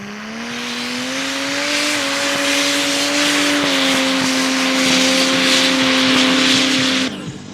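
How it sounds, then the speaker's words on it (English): A small mud drag race engine screams at sustained high RPM, a loud steady whine with slight pitch shifts, then cuts off sharply near the end. "check out the RPM on this little, he's just so mean to this little motor"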